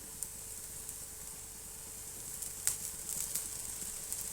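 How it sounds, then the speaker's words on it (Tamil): Adai batter sizzles in oil on a hot pan with a faint, steady hiss and a few small crackles. "எண்ணெய் கொஞ்சம் ஊற்றிக்கலாம்."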